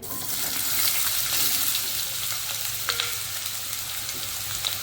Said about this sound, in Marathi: आता बटाटे तळून घेऊ थोडेसे फ्राय करू